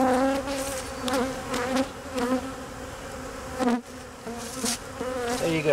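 Honeybees from a vertically split hive buzz close by in a dense swarm, with wavering tones rising and falling as individual bees pass near.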